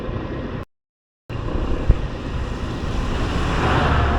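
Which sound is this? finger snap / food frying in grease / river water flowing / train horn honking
river water flowing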